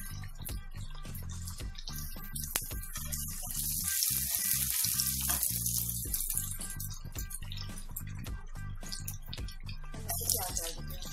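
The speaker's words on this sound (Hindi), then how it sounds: "अब मैं उसे पूरी गोल्डन ब्राउन होने तक मैं इसे अच्छे से फ्राई कर लूँगी।" Garlic fries in a pan for a banana flower (mocha) dish, giving a steady soft sizzle with scattered crackles and pops that hold at an even level throughout.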